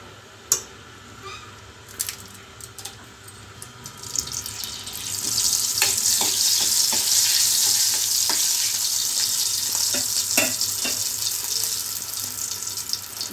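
Dried red chillies frying in hot oil in a pan for a village-style tomato roti pachadi, with a steady hissing sizzle that swells after a few seconds, plus scattered clicks and taps of utensils.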